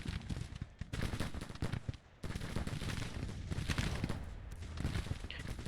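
An artillery battery fires in Grand Tactician The Civil War video game, a dense, distant crackle of massed gunfire and booms rolling on and on, briefly dipping before resuming.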